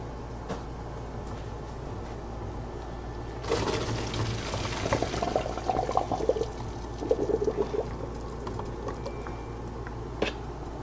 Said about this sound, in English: our next step is we will be draining the macaroni